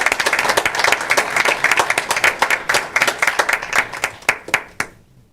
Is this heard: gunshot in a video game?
no